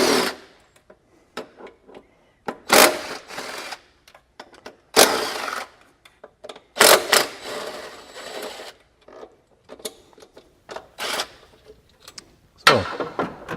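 A 10mm socket ratchet removes the four bolts holding an electronic throttle body, giving short bursts of clicking ratchet sound in uneven spurts with brief pauses between, close and fairly loud.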